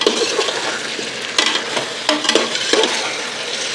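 About two kilograms of lightly fatty beef sizzles and fries in a pot for Pakistani-style biryani, with steady frying hiss and a few scraping stirs of the spoon.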